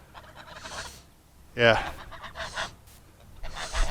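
Backyard geese honk near a pond, one sharp loud honk standing out among softer breathy calls and panting sounds, with a person briefly speaking.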